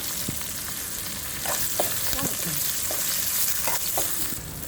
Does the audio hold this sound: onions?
yes